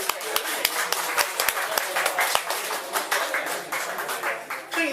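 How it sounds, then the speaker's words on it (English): An audience at a poetry open-mic evening applauds a poet, with sharp individual claps close by over a fuller spread of clapping that continues for several seconds and gradually thins. "So please give a big warm round of applause to the wonderful Mr."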